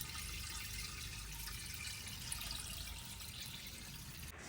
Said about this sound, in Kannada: ನೋಡಿ, ನೀರು ಬಿಡ್ತಾ ಇದ್ದೀನಿ, ನೀರು ತುಂಬಿಸ್ಬಿಡ್ತೀವಿ